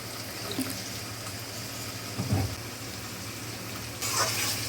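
Water poured over ground coriander, turmeric, cumin, garlic and chilli paste in a kitchen, with a low steady background, a brief splash near the middle and a louder gush of pouring near the end.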